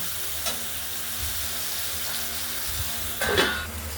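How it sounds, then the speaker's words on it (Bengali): Potato pieces fry in hot oil in a pan with a steady close sizzle, a couple of light stirring knocks and a brief louder scrape near the end. "আলুগুলো একটু হালকা হলুদ করে ভেজে নেব"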